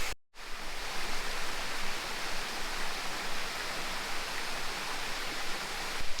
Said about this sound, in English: Another good Yorkshire waterfall.